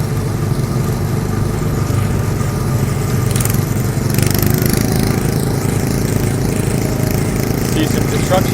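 Small ride car engine on the Tomorrowland Speedway at Magic Kingdom, a steady close droning putter at full throttle, continuous and loud throughout.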